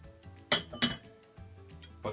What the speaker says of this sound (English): Try and pour this one, the London Bitter.